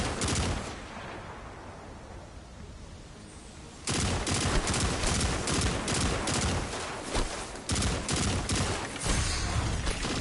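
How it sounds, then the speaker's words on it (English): Gunfire in a Destiny 2 match, a quiet stretch followed by a loud run of rapid shots and bursts that fills the rest of the time. "I'm getting sniped"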